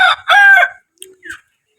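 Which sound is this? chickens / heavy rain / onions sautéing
chickens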